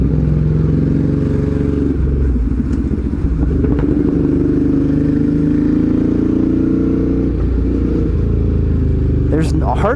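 A Ducati Hypermotard 821 engine hums steadily while riding on a road near Okutama, Japan, loud and continuous with mild rises in revs and a faint clatter, wind roar underneath.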